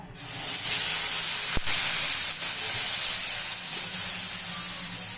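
Onion paste hits hot oil with a sudden burst of sizzle that settles into a steady, loud frying hiss, heard close up with no talking.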